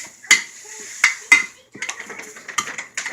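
Utensil clinks and scrapes against a pan while Hamburger Helper is mixed, a few sharp metallic knocks early on, then a busier run of clattering stirs, close and fairly loud.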